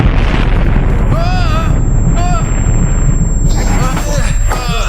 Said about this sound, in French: C'était une explosion.